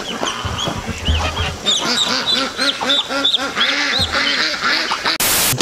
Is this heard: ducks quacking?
yes